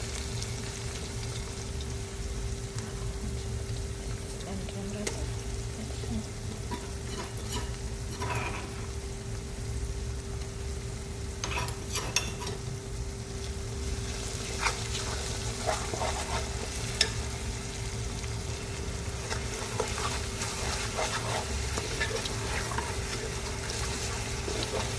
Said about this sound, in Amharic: ሽንኩርት እንግዲህ በእንደዚህ መልኩ ጥብስ ብለዋል ማለት ነው።